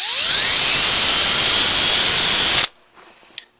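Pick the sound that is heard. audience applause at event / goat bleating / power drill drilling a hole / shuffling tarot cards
power drill drilling a hole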